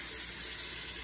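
Tap water runs steadily over a paintbrush being rinsed at a sink, a close, bright continuous splashing hiss with no pauses.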